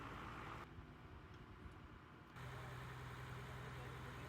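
A truck arriving on a work site where a roof and engine are being removed idles with a steady low rumble, its tone shifting partway through as the engine note changes.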